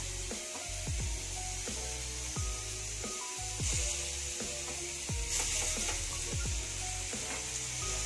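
Chicken pieces for a high-protein chicken pasta hitting a hot pan, giving a steady sizzle of frying with repeated clinks and scrapes of stirring against the pan, close and continuous with no talking.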